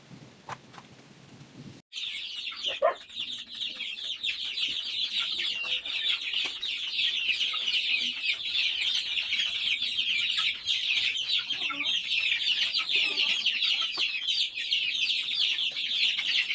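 Many caged chickens cluck and chatter continuously nearby, a dense busy flock sound that starts abruptly and keeps going without talk.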